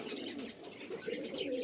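Pet birds kept by a breeder, a mix of soft cooing and calling, several overlapping steady calls close by throughout, with no talking.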